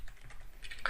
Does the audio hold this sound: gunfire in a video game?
no